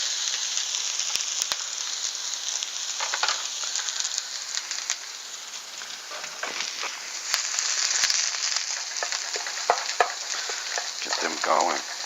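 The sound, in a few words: onions frying in a pan for cabbage stir-fry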